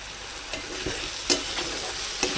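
Spice paste for egg curry frying in oil while being stirred, a steady background sizzle broken by several distinct spoon-against-pan clacks at irregular intervals, close up, no one speaking.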